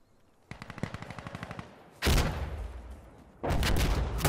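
Machine gun fire in Insurgency Sandstorm, a military shooter game: a rapid burst of evenly spaced shots is followed by two louder, denser bursts with pauses between them, close and without speech.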